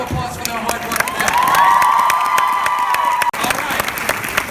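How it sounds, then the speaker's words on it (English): A packed audience at a Miraculous Ladybug panel at San Diego Comic-Con 2017 breaks into loud, sustained applause and cheering, with shouts rising over the clapping before a brief cut and a return to crowd noise. "So let's give them a big round of applause for their hard work today."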